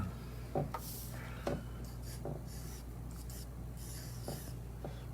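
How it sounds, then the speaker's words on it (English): A pencil sketches Spider-Man on paper, making soft, scratchy strokes that come in short bursts with quiet gaps. The sound is faint and close, with no talking. "Let's grab the pencil."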